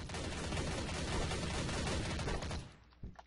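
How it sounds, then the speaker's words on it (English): Dense, continuous gunfire from a Garry's Mod Trouble in Terrorist Town round, a loud sustained burst of many overlapping shots that cuts off near the end, followed by a lone later crack. "there's shots fired and a person died"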